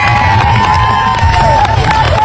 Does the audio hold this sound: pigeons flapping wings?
no